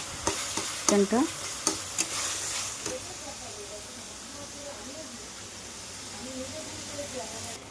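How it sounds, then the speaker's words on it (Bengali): Chicken pieces are dropped into a pan of frying spice paste with a few clanks and stirring knocks, then a steady, close hiss of sizzling goes on. "চিকেনটা দিয়ে দিলাম। এবার আমি এটাকে ভালো করে মিক্স করে এটাকে ঢেকে রেখে দেবো।"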